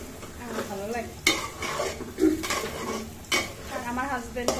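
Pulao rice fries in oil in a pan, giving a continuous sizzle broken by several loud scraping strokes of a spoon stirring the grains against the metal.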